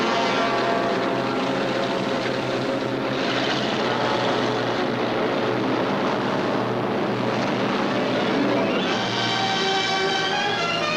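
Steady, loud drone of British WW2 bomber aircraft engines in flight, a continuous propeller roar with throbbing harmonics that holds throughout without pause.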